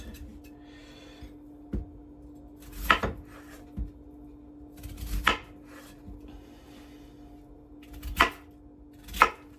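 Sausages for bangers and mash are cut into small pieces on a board, giving several sharp knife chops spaced out at irregular intervals, close and clear over a faint steady background hum.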